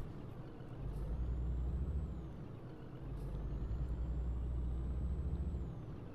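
Scania truck in a driving simulator game: a loud, steady engine drone builds as it is floored, dips briefly around the brake, then roars back up, with a faint high whine above; no talking.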